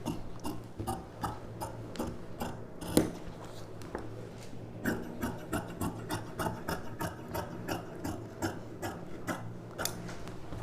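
Scissors snipping and rubbing through fabric while cutting the shape of a puff sleeve for a girl's paavadai sattai dress, a steady run of close, soft rasping cuts throughout.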